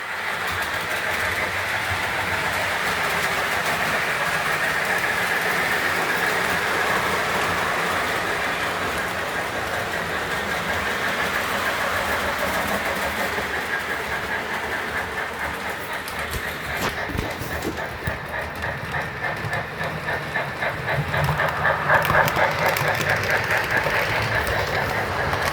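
An MTH model train pulling a wood caboose runs continuously, giving a steady rolling rumble and clatter that stays fairly loud throughout, with rhythmic clicking growing in the last few seconds.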